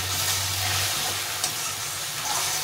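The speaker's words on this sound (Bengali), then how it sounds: "এখন আমি এর মধ্যে এই মশলাটা দিয়ে দেবো, দিয়ে এটাকে ভালো করে একটু কষিয়ে নেব।" Fried pointed gourd stir-fried with ground spice paste in a pan gives a loud, continuous hissing sizzle close up, with faint scraping of stirring throughout.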